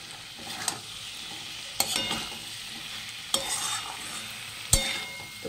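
Soybean chunks with tomato and spices are sautéed in a pan, a moderate sizzle punctuated by four sharp spatula scrapes at irregular intervals.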